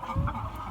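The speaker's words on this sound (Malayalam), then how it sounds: "ആഫ്രിക്കൻ നാടൻ കോഴികൾ" African free-range chickens on a farm in Africa cluck and murmur close by in a short, steady burst of low fowl chatter with no talking.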